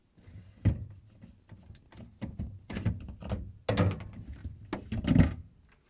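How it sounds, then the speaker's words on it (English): Shelves being pulled out of a Samsung refrigerator's fresh food compartment, a run of plastic knocks, scrapes and clunks with a few louder thumps, close by. "We will start with removing shelves."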